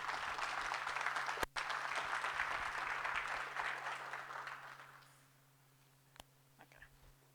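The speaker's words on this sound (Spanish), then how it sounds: "Aplausos, por favor." Applause from a conference audience at a mechanical engineering congress, steady and fairly loud for about five seconds before fading out, leaving faint room noise and a couple of isolated clicks.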